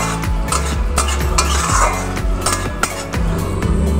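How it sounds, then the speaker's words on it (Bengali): Spices with turmeric and salt cook down in oil in a pan, with close spatula scrapes and knocks against the metal in an uneven rhythm over a soft sizzle. "সমস্ত মশলাগুলোকে আমি এবার খুব ভালো করে কষিয়ে নেব।"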